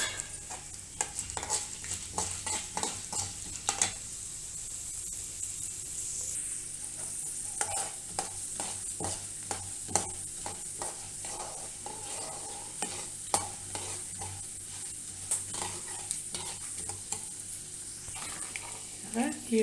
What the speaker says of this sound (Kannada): ಇವಾಗ ಕಡಲೆಬೇಳೆ, ಉದ್ದಿನಬೇಳೆ ಹಾಕ್ಕೊಳ್ಳೋಣ. ಸ್ವಲ್ಪ ಫ್ರೈ ಆಗಲಿ.